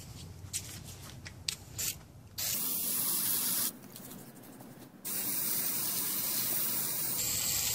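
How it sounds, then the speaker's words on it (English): Several short bursts of aerosol battery cleaner hiss onto car battery corrosion, followed by longer sustained spraying, close and fairly loud with no talking. "I'm going to spray it on the place where there are corrosion"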